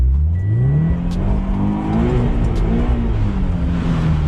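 Small rally-prepped FRS coupe revving hard while pulling on a tow strap, a loud close engine note rising and wavering in pitch through repeated throttle surges, with no talk over it.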